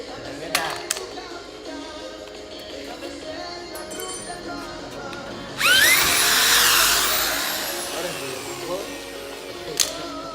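A power drill drives a screw into an entrance fence for a funfair ghost-train ride, one loud burst of a few seconds midway, with a brief click near the end, over a background of murmuring voices and site noise.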